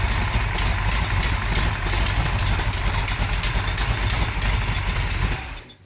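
A 1973 Plymouth Satellite with a big-cam 451 big-block stroker V8 idles close by, a loud, steady, lumpy rumble that holds for several seconds before cutting off abruptly at the end.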